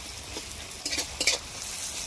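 Onions fry in a pan and ginger-garlic paste goes in, with a steady sizzle throughout and a few brief scraping stirs of a spoon partway through.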